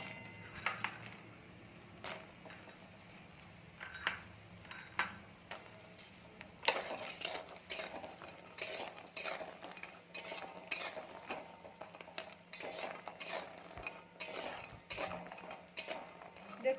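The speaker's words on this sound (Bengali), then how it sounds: "বন্ধুরা আমাদের তেলটা গরম হয়ে গেছে এবার আমরা ডালের বড়িগুলো ভেজে নেব দেখুন" Lentil dumplings (bori) fry in oil in a wok with a quiet, steady sizzle, broken by frequent clinks and scrapes of a metal spatula against the pan.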